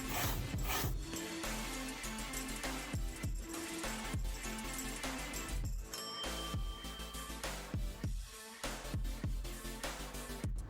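A rough-surfaced Jordan 1 Mid sneaker is rubbed in one direction during cleaning, giving close, repeated scratchy brushing strokes in an uneven rhythm.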